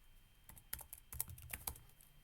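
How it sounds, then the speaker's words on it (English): Soft, close typing on a computer keyboard as a terminal command is entered, a run of light irregular key clicks with a few sharper taps, no voices. "type sudo nano hash1.txt"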